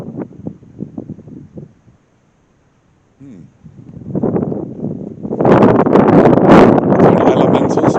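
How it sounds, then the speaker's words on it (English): Gusty wind blows across an outdoor playpark, buffeting the microphone in rough, roaring bursts that build to a loud, steady rush, with quiet talk near the start. "I know it's windy."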